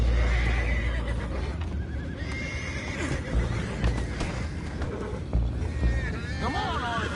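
A horse whinnies in the video game Red Dead Redemption 2 over a busy, continuous background of hoofbeats and rumbling movement, with a rising and falling neigh near the end.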